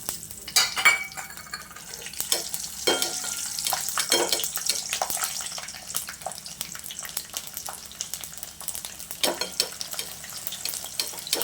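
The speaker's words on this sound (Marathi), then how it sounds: "तर ह्यातच लसूण टाकूया तळायला." Garlic fries in hot oil with a continuous crackling sizzle, punctuated by louder stirring scrapes and bursts, steady and close throughout.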